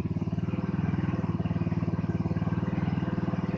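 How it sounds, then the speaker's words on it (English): The 150cc engine of a 2015 Hammerhead GTS 150 go-kart, with its exhaust baffle removed, idles steadily with an even, fast low pulse, close and continuous throughout. "It's running smooth and quiet. Engine is really quiet."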